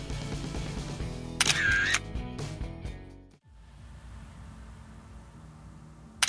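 A camera shutter fires during a photo shoot, a few sharp mechanical clicks and a whirring burst near the start, then a quieter stretch of low background noise with no voices.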